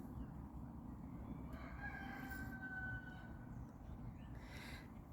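Rooster crowing in the background, two drawn-out calls at a distance, faint over a steady low rumble of outdoor noise.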